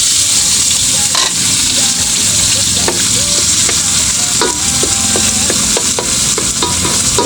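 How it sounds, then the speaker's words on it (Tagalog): Tomatoes sauté in a pan with bitter gourd, a loud, close, continuous sizzle and hiss, with repeated scraping taps of a utensil stirring through the mix. "Gisa-gisa, mga kasang."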